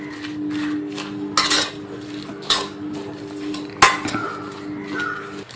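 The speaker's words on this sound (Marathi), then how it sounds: "आता हे सर्व मिश्रण आपल्या मिक्स करून घ्यायचं आहे। हे चांगलं मिक्स झालं पाहिजे ह्या तेलामध्ये" Spoon stirring an onion and masala mixture in oil inside a pot for Champaran chicken handi, with a few sharp metal clinks and scrapes against the pot over a low steady background hum.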